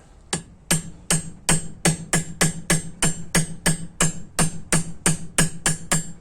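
A hammer taps a valve guide into a Mitsubishi Eclipse 420A engine head in a steady rhythm, about seventeen sharp, ringing metal strikes evenly spaced and close by, with no talking.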